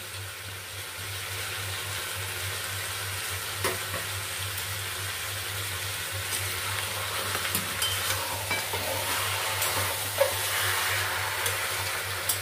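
Fried potatoes go into a pan of greens for a fish-head chhyachra and are stirred, over a continuous close sizzle broken by scattered scraping clicks of the spatula.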